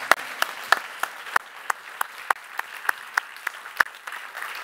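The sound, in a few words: audience applauding the award winners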